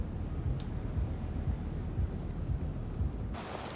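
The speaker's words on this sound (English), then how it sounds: "Rain's actually quite refreshing." Steady rainfall in a Born Punk game scene, a constant wash of patter with low rumbles, close and continuous, then thinning to a quieter hiss near the end.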